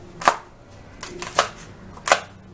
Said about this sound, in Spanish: A los ejotes les vamos a quitar las puntas. Y los partimos también.